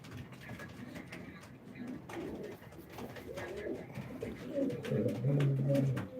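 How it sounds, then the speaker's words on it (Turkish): Pigeons coo softly and repeatedly close by at a live pigeon auction, with a low, steady warble under faint background voices and rustling. "Gerçekten güzel kuşlar."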